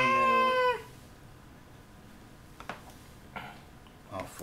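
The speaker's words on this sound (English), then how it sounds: "I think the cat didn't have his evening dinner yet, so that's why he's being annoying" A hungry cat gives one loud, drawn-out meow close by, then falls quiet while faint household sounds follow.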